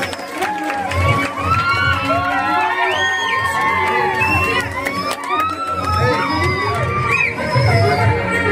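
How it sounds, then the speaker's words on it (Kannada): A lively crowd cheers and shouts in a sustained, loud mix of overlapping voices and whoops, with scattered clapping beneath. "ಚಪ್ಪಾಳೆ ಬರಲಿ."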